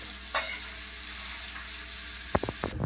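Onions fry in a pan until deep red and darkened, a soft, steady hiss running underneath with a faint spatter early on and a few sharp clicks of a utensil near the end.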